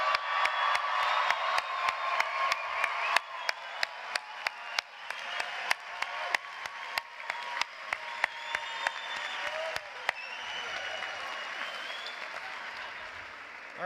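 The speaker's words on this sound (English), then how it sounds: "A round of applause to you." A crowd applauding at a Hampshire College commencement ceremony, sustained clapping from many hands that fades gradually, with sharp, regular single claps standing out near the microphone.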